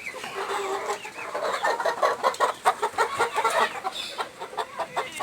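Native country hens cluck busily at close range on a small Kerala backyard farm, a rapid run of sharp, overlapping clucks and squawks with no pause.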